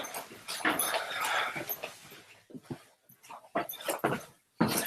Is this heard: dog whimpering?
yes